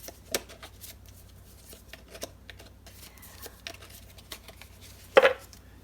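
Tarot cards are shuffled with soft, scattered flicks and taps, quiet and close, ending in a brief louder riffle.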